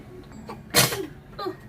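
A single sharp sneeze bursts out near the microphone against a quiet room, followed by a softer breathy sound.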